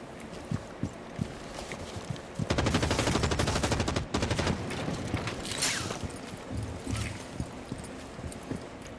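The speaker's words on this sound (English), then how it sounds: "Who knows why that Osa's shooting that window out like that." In the Rainbow Six Siege video game, Osa shoots out a window: a few scattered single shots, then a loud rapid burst of automatic fire lasting about a second and a half, followed by further sporadic shots and rattling.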